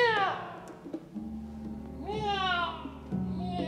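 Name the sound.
voice imitating a cat meowing, puppet Cheshire Cat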